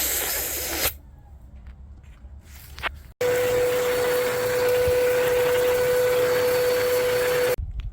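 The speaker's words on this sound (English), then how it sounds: "So go ahead and break out the vacuum" A vacuum cleaner switches on and roars steadily at close range with a constant whine, after a brief quieter stretch, then cuts off at the end.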